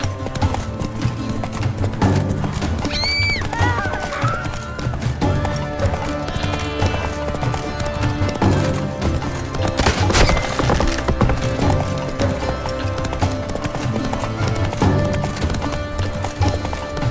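Roach, a horse in The Witcher 3: Blood and Wine, gallops with steady clip-clopping hooves and lets out a loud whinny near the start, set against game music and ambience.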